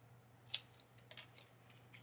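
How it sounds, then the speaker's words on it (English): Scissors snip through card paper in a quiet craft setting: one crisp, close cut followed by a few lighter, faint snips. "one side we can go ahead and trim this straight"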